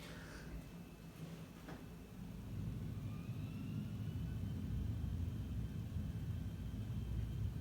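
Boeing 737-700 jet taking off in the X-Plane VR flight simulator, a low engine rumble swelling to a steady, louder roar as the run continues.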